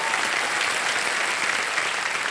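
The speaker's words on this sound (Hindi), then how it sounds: "तालियां बज जाए इनके लिए।" Studio audience applause on the KBC quiz show set makes a continuous wash of many hands clapping, steady and fairly loud from start to finish.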